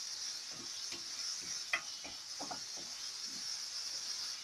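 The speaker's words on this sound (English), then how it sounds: "I just add a little bit of vegetable oil. And I'm giving it a little bit of toast right here and there." Chickpeas toast in vegetable oil in a pan on a gas stove, a steady soft sizzle and hiss running throughout with faint scattered pops and a small clink, quiet and close.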